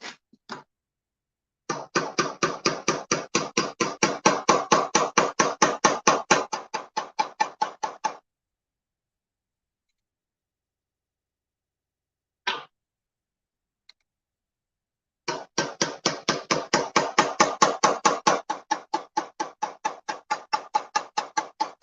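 A hand rivet setter or press sets rivets through a kydex knife sheath. Two long runs of rapid, even clicks come close and crisp, separated by a silent gap broken by a single click, with no talking.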